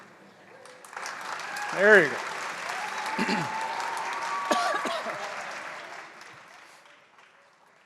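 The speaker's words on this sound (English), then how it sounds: "You are more than welcome to clap." A seated audience at a music showcase claps steadily in sustained applause that swells and then gradually fades, while a speaker's voice cuts in briefly over it.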